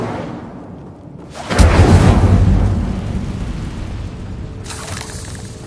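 A fire spell, Incendio, is cast in the video game Hogwarts Legacy: a sudden loud whooshing burst of flame roars up after a quiet moment, then fades into a lingering crackling rumble.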